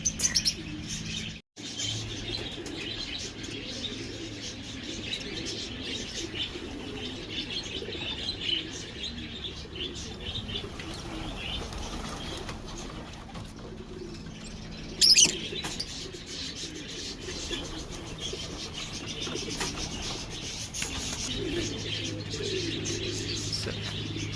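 Racing pigeons coo and chirp around a loft as they come in to land, a continuous soft outdoor murmur with a few brief louder bumps and no talking.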